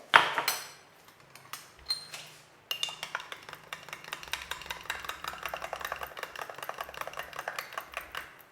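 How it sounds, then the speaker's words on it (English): Metal spoon stirring instant coffee for a cappuccino in a cup, a rapid run of small clinks and scrapes against the cup that grows steady and rhythmic after a brief pause, close and fairly quiet. "Give it a good stir"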